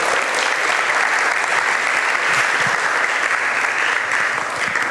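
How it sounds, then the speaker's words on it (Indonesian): Warm, sustained applause for all participants at a theater festival awards announcement, dense clapping from a large audience held at an even level from start to finish. "Tepuk tangan untuk seluruh peserta."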